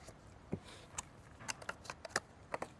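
Tarot cards are shuffled by hand, a string of soft, quick riffling snaps and flicks close by in uneven bursts, faint and without talk.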